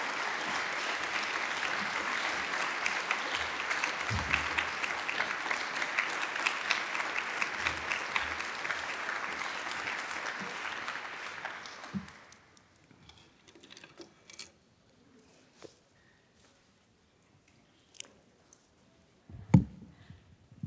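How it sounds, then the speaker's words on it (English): Audience applause for a keynote speaker at a university anniversary event in Vienna, steady and dense clapping for about twelve seconds before abruptly dying away into room quiet with a few scattered sounds. "You can applaud, yes."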